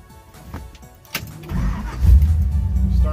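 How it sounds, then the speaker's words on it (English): A 1955 Chevy Bel Air, a custom-built two-door hardtop in beautiful condition, cranks briefly, then catches and settles into a loud, steady, deep idle rumble close by. "Okay, we're gonna start this baby up. 1955 Bel Air."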